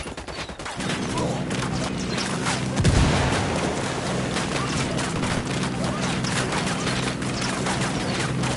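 Grenade detonation during a firefight in Ghost Recon Wildlands: a heavy boom lands early amid ongoing rattling gunfire and combat noise that continues loud throughout.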